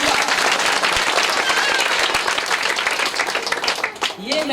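Loud, dense applause from a church congregation clapping for God during a fasting prayer gathering, sustained and close, with voices mixed in beneath the clapping.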